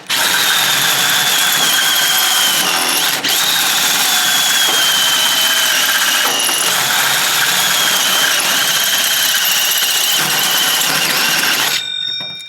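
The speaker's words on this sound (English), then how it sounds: "I think I near about destroyed this drill." A power drill bores into the fuel tank of a 1957 GMC pickup, a loud continuous high whine with brief dips under load, close to the microphone, stopping abruptly at the end.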